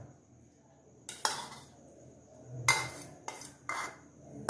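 Crushed biscuits are mixed with butter in a bowl, with a few separate scraping, clinking strokes of a spoon against the container between quiet pauses.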